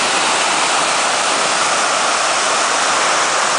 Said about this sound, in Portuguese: Impagável a força da água, impagável o barulho